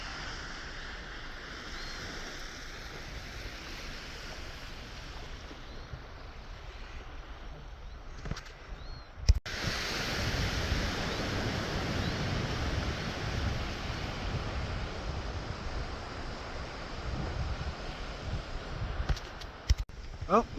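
Waves wash in steadily at a local beach on a fine day, a broad continuous surf roar with wind buffeting the microphone and a few louder gusts.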